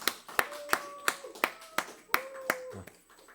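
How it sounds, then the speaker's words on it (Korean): At a church youth service graduation ceremony, a small group claps in a sparse, irregular series of sharp, separate claps that are fairly faint in a quiet room. "박수로 모시겠습니다"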